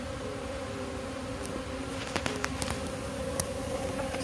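A swarm of Japanese honeybees buzzes densely at a wooden hive box, a steady close drone with individual bees zipping past the listener, no talking.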